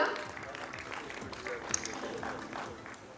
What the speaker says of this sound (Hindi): एक बार इनके लिए जोरदार तालियां।